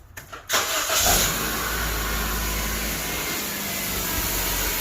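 A 2006 Honda Civic, just repaired with a new PCV valve and intake manifold gasket, cranks with a few short starter chirps, catches, surges briefly, then settles into a steady, smooth idle heard up close.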